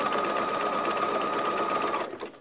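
A Bernina Activa 130 sewing machine stitches a zigzag, its fast, even mechanical whir and needle clatter running steadily up close, then winding down and stopping at the end, with no talking.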